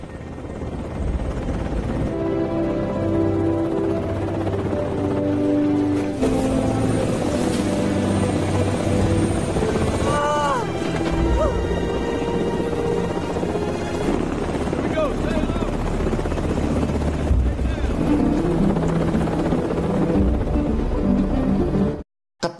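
A helicopter's rotor roars steadily throughout, with voices talking over the constant mechanical drone.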